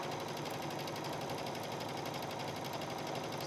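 A sewing machine runs steadily at a constant, even speed, stitching fringe onto the edge of a tank top, with a loud close mechanical whir and no talk.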